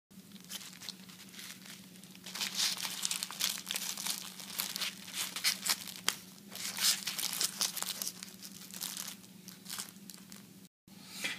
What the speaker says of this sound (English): it'll be wrapped in some nice tissue paper to make sure nothing damages it